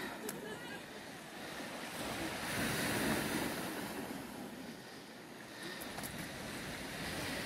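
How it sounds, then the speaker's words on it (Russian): Sea waves wash continuously onto a shore, a broad steady roar that swells and eases over several seconds, mixed with wind buffeting the microphone. "Все это происходит на берегу моря."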